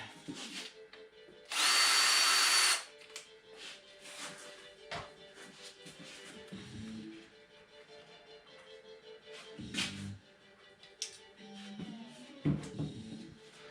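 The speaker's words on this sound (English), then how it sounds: "I'm gonna disconnect again my drill" A power drill whirs in one loud, brief burst while removing screws from the air cleaner of a Mahindra eMax 20S HST tractor, followed by quieter clicks, scrapes and rattling of parts being handled nearby.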